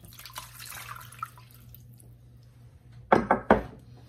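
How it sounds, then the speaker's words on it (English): A cup of water poured into a cooking pan while preparing a juicy glazed ham with squeezed oranges. A couple of short, close splashing bursts come near the end after quiet kitchen noise. "Just a cup of water."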